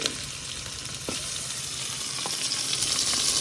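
Chopped onions fry in a pan for liver bhuna, giving a steady, close sizzle throughout that builds slightly louder toward the end, with a few faint clicks and no voices.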